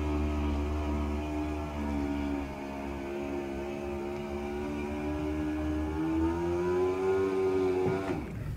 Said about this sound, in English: The bubble top on this, can you show us how it operates?